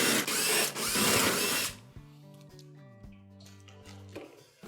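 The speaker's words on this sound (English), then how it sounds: "There are 1/4 inch screws that hold in all the panels that we're gonna take off to access all the important components." A power driver spins quarter-inch screws out of the panels of a KitchenAid oven: a loud burst of whirring, then a short quieter stretch of a motor buzzing at changing pitch, close by and without talk.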